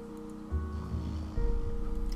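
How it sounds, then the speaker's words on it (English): A psychic character snoring in a Nancy Drew video game: two drawn-out, low rumbling breaths one after the other, quiet and heard over a faint ambient game background. "That's the sound of Abby,"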